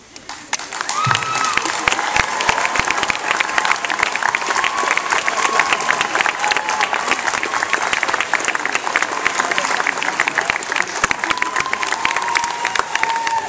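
A large audience applauds steadily at a college welcome ceremony for an incoming class, a loud dense wash of clapping from many hands with some crowd voices mixed in, sustained throughout.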